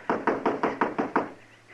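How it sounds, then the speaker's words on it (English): Seven firm, evenly spaced knocks land on a wooden door in quick succession, close and loud, then stop and leave a quiet hum. "Go ahead and knock."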